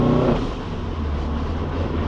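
A damaged Toyota GT86 rolls along slowing down, a close, steady rushing rumble of road and engine noise, with a loose wheel arch lining scraping and grinding underneath.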